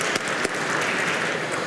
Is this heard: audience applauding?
yes